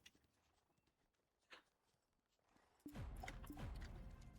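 Horse hooves in a video game clop steadily and loudly after a quiet stretch, a dense galloping rhythm that carries on to the end over faint background sounds.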